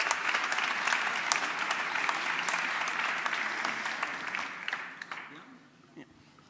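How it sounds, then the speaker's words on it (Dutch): A live theatre audience at Beers' Gebuurt Live bursts into a warm, dense round of applause for Rens Verginneke. The clapping holds steady for several seconds, then thins and fades away near the end. "Nu is hier nog een keer een warm applaus voor Rens Verginneke."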